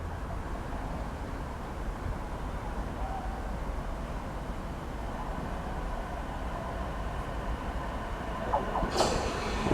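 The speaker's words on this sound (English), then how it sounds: "we have a 450 for the 1242 Southwestern Railway service for Weybridge via Hounslow and Isleworth" A Class 450 South Western Railway passenger train passes at Barnes with a steady rumble and rolling clatter, fairly close. A brief bright squeal is heard near the end.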